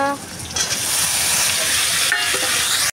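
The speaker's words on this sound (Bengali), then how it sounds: "পেঁয়াজগুলো লাল লাল ভাজা হয়ে গেছে, তো আমি এখন দিয়ে দেবো সবজিটা।" Vegetables being stirred into reddish-browned frying onions for a thin fish curry, giving a steady, loud sizzle with scraping stir strokes close by and no talking.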